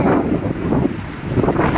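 Wind and waves at Kanyakumari beach, where three seas meet, make a loud, gusty rush of surf and microphone wind buffeting with no voices.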